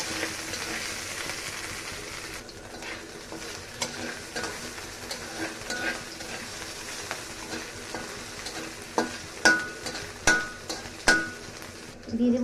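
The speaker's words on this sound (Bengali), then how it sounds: "নাড়াচাড়া করে নেব।" Boiled potatoes, slit green chillies and black cumin are stirred in a frying pan, with a soft steady sizzle and scraping, then a run of louder rhythmic spoon knocks against the pan near the end.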